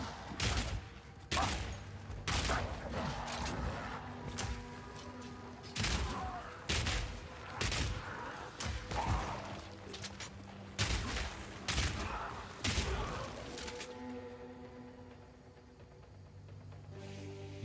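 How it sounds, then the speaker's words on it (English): Grenades fire in Path of Exile 2, heard as a series of loud, punchy blasts in irregular clusters, each thump ringing out briefly before the next volley. "so you can just shoot more grenades"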